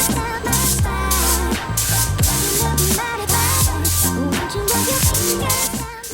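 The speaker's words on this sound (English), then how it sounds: "Now I'm going to spray about 2 to 3 coats of primer on these wheels" Spray gun applying thinned primer onto wheels in a steady hissing spray, close and continuous with brief pauses between passes, over a background of music.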